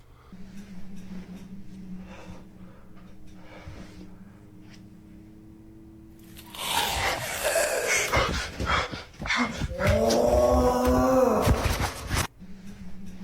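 A pet dog barks and whimpers in a burst of loud, clustered yips and barks in the latter half, after a quieter stretch with a steady low hum.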